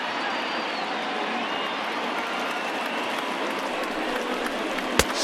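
A baseball stadium crowd of over 39,000 stands cheering and applauding, a dense continuous roar of claps and shouts at even loudness, with one sharp crack near the end.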